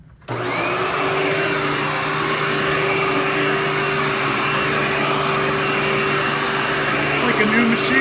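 A Hoover Windtunnel bagless upright vacuum cleaner switches on and runs with a steady, loud motor whine and airflow roar, holding constant for several seconds without letup.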